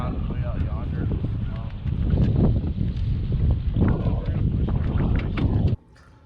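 Wind buffeting a microphone while kayaking on the water in a TitanX 10.5 kayak: heavy, continuous low rumble and gusts over several seconds, ending abruptly.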